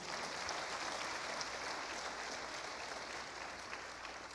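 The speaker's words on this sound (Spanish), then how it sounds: "dale palmas al Señor" A church congregation claps for the Lord during a sermon, a dense, even wash of applause that holds steady and moderately faint throughout without pauses.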